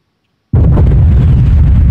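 Rockets blow up in the Garry's Mod Nuclear Warfare mod: after half a second of silence comes a sudden loud blast that settles into a sustained, heavy rumbling roar, with no one talking.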